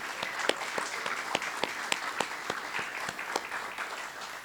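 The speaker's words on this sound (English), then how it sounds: "another round of applause for the students right here" An audience at a graduation ceremony claps steadily, a dense wash of applause with sharper individual claps popping out at irregular intervals, fairly faint and without talk.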